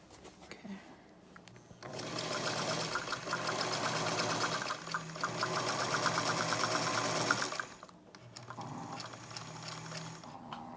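Domestic sewing machine running in two bursts while locking threads on a fabric bowl cozy: a steady rapid needle rattle for about six seconds, a brief pause, then a second shorter run, close and fairly loud.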